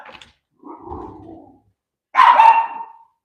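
A dog gives a few low growly barks, then one loud sharp bark close by, each burst separated by quiet gaps.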